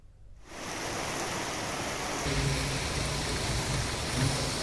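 Dense, continuous hiss of heavy rain pouring down in Hyderabad, building quickly from silence and staying loud and even.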